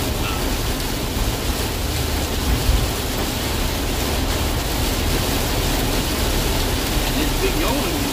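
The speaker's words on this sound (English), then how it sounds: "It's actually dropping hail onto the van. It's raining hail." Hail drums on a van roof as a dense, constant roar of pattering impacts, steady and loud throughout with no break in the downpour.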